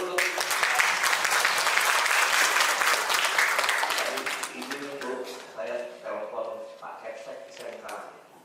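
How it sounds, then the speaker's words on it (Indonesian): Indoor audience at an autism-detection workshop claps loudly and steadily, the dense applause fading over several seconds into scattered claps as a voice begins speaking. "Tepuk tangan dulu dong."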